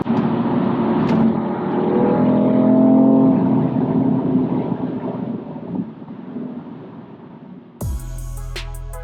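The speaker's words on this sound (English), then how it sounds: "Those tyres are low profile tyres, and the road noise coming through is phenomenal, staggering really." Low-profile tyres on a BMW M3 Competition F80 send a loud, broad low roar of road noise into the cabin, swelling and fading while driving, before a sudden clunk near the end.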